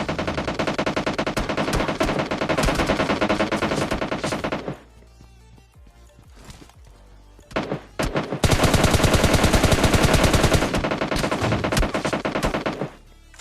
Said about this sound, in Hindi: और फिर तुमने गोलियों की आवाज सुन ली होगी